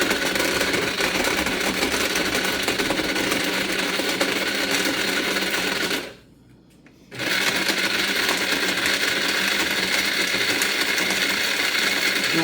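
Dried lemon peels being ground into lemon pepper in an electric grinder, a loud continuous whirring buzz that cuts out briefly for about a second midway, then resumes at full strength.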